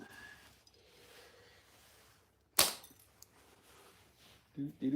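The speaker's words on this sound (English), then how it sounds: "Shooting a fork. Oh boy, that just blew into smithereens." A slingshot shot strikes a fork and shatters it with one sharp, loud crack midway through a quiet stretch, followed by faint rattling and brief voices near the end.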